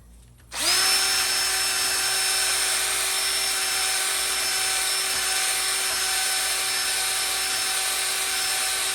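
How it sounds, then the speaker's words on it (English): An abrasive bench hone spins inside a bore of a Ford 4R100 transmission valve body. It kicks on abruptly into a loud, steady, high-pitched whine that holds evenly to the end. "So what these bench buddies are is basically abrasive hones"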